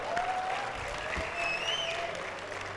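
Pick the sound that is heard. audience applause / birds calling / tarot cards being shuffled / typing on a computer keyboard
audience applause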